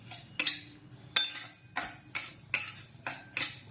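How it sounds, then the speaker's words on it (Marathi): Sugar and ghee heat in a pan over a low flame while a utensil stirs steadily, giving a regular series of close metallic scrapes and taps about every half second, with no talking. "याला चांगलं पातळ होईपर्यंत हलवत राहायचं सारखं"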